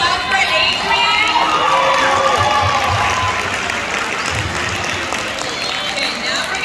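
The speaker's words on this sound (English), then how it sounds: "Can we get a round of applause?" A school assembly audience at a Martin Luther King Jr. event gives the school band a round of applause, loud continuous clapping with scattered cheers and shouts that eases slightly toward the end.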